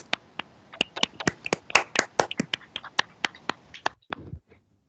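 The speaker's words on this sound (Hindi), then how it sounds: "हम सब तालियों के साथ खुदा की खादमा को वेलकम कहते हैं" A small congregation at a church sermon claps to welcome a woman preacher, the individual hand claps sharp, close and scattered in a loose, quickening patter before stopping.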